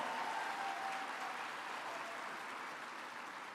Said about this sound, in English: So how about a round of applause for Sage and all of his neighbors